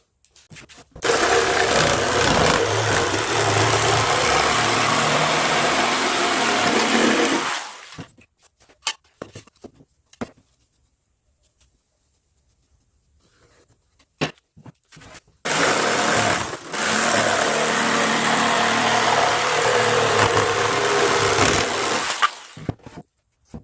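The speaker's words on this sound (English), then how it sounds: "I'm going to cut this out with my jigsaw" Jigsaw cutting wood for a bread board, a loud, close buzzing rasp in two long bursts of about seven seconds each, separated by a quiet pause with small clicks and handling noises.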